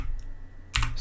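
A computer keyboard gets a short burst of key presses while a command is typed, a quick, close clatter after a low steady hum of a room or computer fan.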